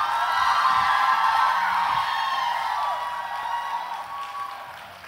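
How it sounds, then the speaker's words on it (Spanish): Audience at a book fair event gives loud, sustained applause with cheering and whoops, a dense crowd sound that gradually tapers off over about five seconds. "Y le demos un aplauso a la mera mera."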